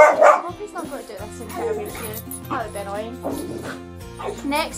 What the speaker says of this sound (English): That's my dog bark.